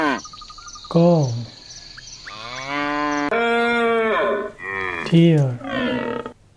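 A cow moos several times in a row, long low drawn-out calls, some deep and some rising, loud and near, with insects chirping steadily in the background.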